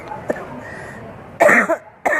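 A person with a slight cough lets out a couple of short, close coughs near the end, separated by a brief pause, over quiet background with faint talk earlier.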